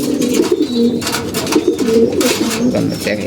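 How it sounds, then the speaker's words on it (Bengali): Pigeons of a white army-line breed cooing in a loft, repeated low throaty coos rolling one after another, close and fairly loud, with faint other bird sounds mixed in. "কবুতরগুলো নতুন দুই পেয়ার করছি"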